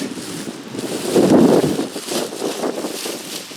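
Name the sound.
wind blowing on microphone outdoors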